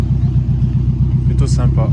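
A Renault 5 Turbo idles nearby with a deep, lumpy, pulsing engine rumble at a car meet, and a person speaks briefly over the steady throb.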